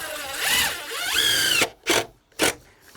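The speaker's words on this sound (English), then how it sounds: "this is how we install decking screws, right? It's a surface, just past the surface." A power drill drives decking screws into deck boards: two rising, whining runs of the motor, then a few short, sharp bursts as the screws seat just past the surface, close and loud.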